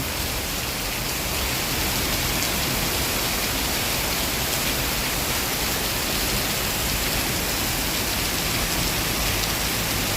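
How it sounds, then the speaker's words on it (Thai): Heavy rain pours down in a dense, unbroken hiss, loud and steady from start to finish, with no voices or other sounds. "ฝนกำลังมากพี่น้อง เริ่มตกประมาณสามทุ่มสี่สิบห้านาที"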